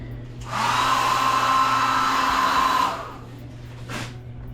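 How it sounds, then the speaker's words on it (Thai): A hotel-room hair dryer switches on with a steady, loud whirring roar for a couple of seconds, then cuts off, leaving a low hum and faint room noise. "แล้วก็มี dry เป่าผมนะครับนี่"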